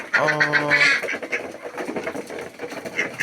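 A duck quacks several times in a quick, loud series up close, followed by softer scattered calls and some indistinct voice.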